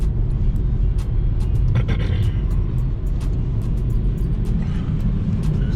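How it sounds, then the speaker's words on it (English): A snow-clearing truck rumbles past outdoors during a snowstorm, a steady heavy low engine roar with road noise that holds throughout at moderate distance. "I was trying to video the truck just now"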